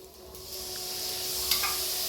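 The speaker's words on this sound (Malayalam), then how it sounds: "കടല ചെറുതായി പൊട്ടി തുടങ്ങുമ്പോൾ നമുക്ക് അതിലേക്ക് കുറച്ച് ഉപ്പുവെള്ളം തെളിച്ച് കൊടുക്കാം." Chickpeas dry-roasting in a pan give off a steady soft sizzle and hiss that swells slightly after salt water is sprinkled in, with one brief sharper crackle near the end.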